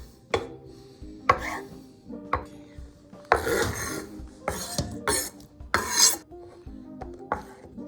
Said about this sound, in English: The Kalamata olives, I'm gonna do 4 slices, each olive 4 pieces.